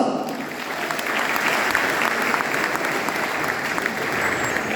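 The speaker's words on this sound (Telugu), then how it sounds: "Give a big round of applause." Sustained audience applause from a large crowd at a motivational class in Vizianagaram, steady dense clapping filling the room throughout.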